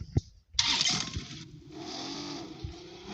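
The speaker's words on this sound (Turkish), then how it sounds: "Araba." A car engine cranking and catching in a video game garage, a short starter burst followed by a steady idling hum, with a voice speaking briefly nearby.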